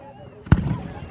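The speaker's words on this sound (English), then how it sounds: "Hello there, firework! Boom!" A single Canada Day firework bursts with a loud boom about halfway through, followed by a rumbling tail, with a voice speaking nearby.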